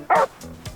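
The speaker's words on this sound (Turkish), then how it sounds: "Köpek sesi mi o? Evet köpek sesi." A young puppy gives a couple of sharp, high yips and barks indoors, one loud burst followed by fainter whimpering yelps.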